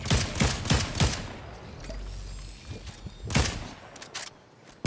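Rapid bursts of close gunfire ring out in a video game, with several quick volleys clustered at the start and another burst later over a low background rumble.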